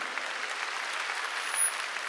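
A large crowd claps steadily in a big indoor gymnasium during a Korean evangelistic rally, a dense, even wash of applause held at one level throughout with no voices rising above it.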